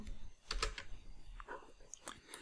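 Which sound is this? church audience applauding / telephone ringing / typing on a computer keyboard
typing on a computer keyboard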